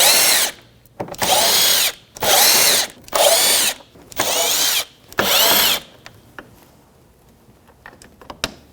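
A power drill whirs in five or six short bursts as it backs out T20 Torx screws along the radiator of a 2007-2017 Jeep Patriot 2.4L, followed by quieter clicks and handling noises.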